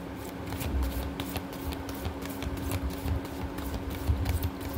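A Mahadev oracle card deck being shuffled up close, giving a continuous soft papery riffling with quick repeated flicks and a faint steady hum underneath, no speech.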